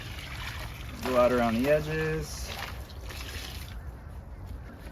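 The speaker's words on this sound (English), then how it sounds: "kind of like a little hole in the middle, pour the water in." Water poured from a measuring cup into the middle of a concrete mix for a DIY pool deck slab. It makes a steady, soft wash that runs under a voice speaking.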